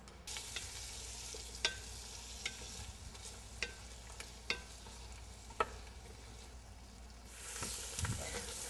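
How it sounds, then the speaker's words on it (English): Onions sauteing in butter on a stovetop give a steady, soft sizzle with occasional sharp pops and ticks, briefly swelling louder near the end; no one talks. "we're going to put this on the stove and we're going to saute it"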